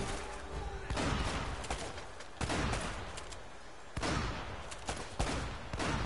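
Repeated heavy shotgun blasts from Uncharted gameplay boom out at irregular intervals, each a sharp loud burst followed by a short decaying rumble, with several shots across the stretch.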